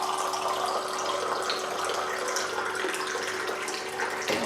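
Water pours steadily from an H2 Source Vitale water purifier into a glass, a continuous close splashing fill with no talking.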